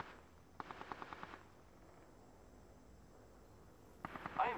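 Automatic weapon bursts in the shooter game Apex Legends: a rapid string of about eight sharp shots, a quiet pause, then another close burst starting near the end, with no talking.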